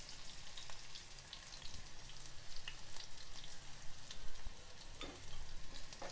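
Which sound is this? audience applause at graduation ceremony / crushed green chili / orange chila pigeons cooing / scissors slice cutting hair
crushed green chili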